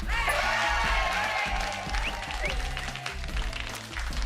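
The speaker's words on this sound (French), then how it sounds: "on a le droit d'applaudir tout le long du jeu" A studio audience on a French game show applauds, sustained crowd clapping with some cheering, a music bed underneath, and a few voices in the mix.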